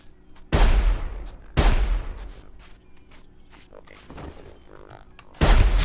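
Enemy shotgun blasts in the survival game Sir, You Are Being Hunted: three loud, booming shots spaced a second or more apart, with quieter thuds between and a voice talking over them.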